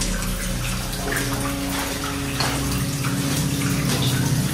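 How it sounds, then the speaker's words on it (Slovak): Water flows and drips heavily from the ceiling and walls of an old 1979 mine adit in Slovakia, a steady loud rushing and splashing that fills the tunnel, with no one talking. "Ale tu dobre tečie vody zo strochu a zo všade."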